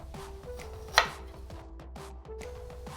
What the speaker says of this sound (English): Just gonna give the ginger a fine mince.